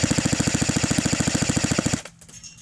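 An HK MP5 SD6 airsoft gun firing full auto, a rapid, even stream of about thirty sharp close pops at a high fire rate that stops abruptly, leaving a faint quiet tail.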